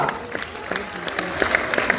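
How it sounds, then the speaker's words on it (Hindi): Audience at an HGW Pakistan success celebration applauding Munir Akhtar from Rawalpindi as he is welcomed, steady clapping from a crowd with sharp individual claps standing out and a voice talking over it. "मुनीर अख्तर साहब, भरपूर तालियों में वेलकम कीजिएगा"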